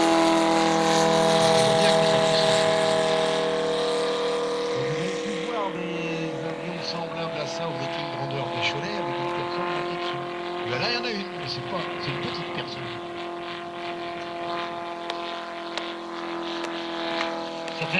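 A model airplane engine screams at about 4500 rpm in a loud, sustained drone as it takes off at a model aircraft meeting, with voices murmuring underneath.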